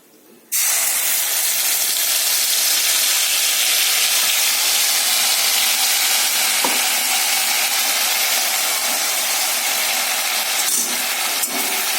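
A paste of cashew, melon seeds and poppy seeds hits hot oil and fries with a sudden loud, steady sizzle and hiss that holds for the whole stretch, with no speech.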